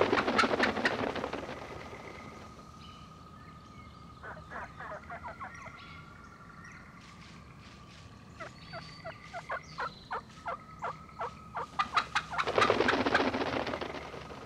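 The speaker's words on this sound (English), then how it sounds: "During the last hour before sundown, a turkey flock finishes feeding and searches out a roost for the night." A wild turkey flock calls at dusk before roosting, with a long run of short clucks and yelps growing louder toward the end and a loud burst of gobbling at the start and close.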